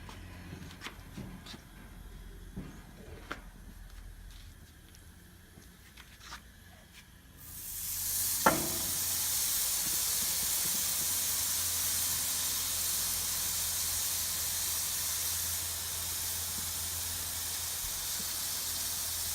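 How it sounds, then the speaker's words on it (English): Steaks sizzle on a hot grill, a loud steady hiss that swells in suddenly after a quiet start with a brief sharp crackle, then holds evenly close by. "So right now we're gonna put these on the grill."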